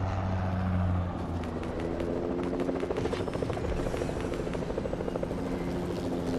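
A helicopter in Fortnite thrums close and loud, its rotor chop settling into a rapid, steady pulsing beat over a droning engine hum, with no voices heard.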